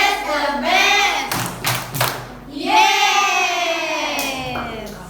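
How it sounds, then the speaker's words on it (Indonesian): A group of children claps together in a rhythmic chant during an Islamic school orientation session, the claps landing in quick bursts mixed with shouted voices, close and loud. "Tepuk semangat lagi ya."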